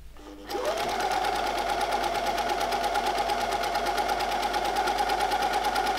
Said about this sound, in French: la machine va recouper et piquer en une seule étape